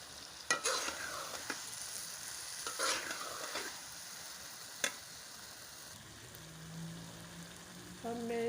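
Fried potatoes go back into a pan of softened onion and tomato, giving a quiet sizzle with scraping stirs and a few sharp utensil knocks, near and fairly soft.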